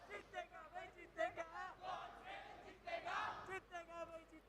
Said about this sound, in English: These chants are amazing.